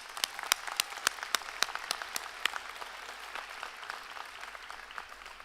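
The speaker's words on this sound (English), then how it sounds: "let's give them a round of applause" Applause at a university convocation ceremony, with a smattering of distinct claps, some sharp and close, spread over a softer, thinning background of clapping that tapers off.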